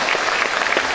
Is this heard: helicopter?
no